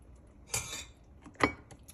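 A metal ladle scooping fig juice in a glass jar, giving two distinct clinks about a second apart against quiet surroundings, with no talk.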